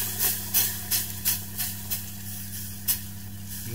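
Milk being stirred in a pan, heard as a steady run of soft rhythmic scraping strokes, about three per second, over a continuous low hiss and hum.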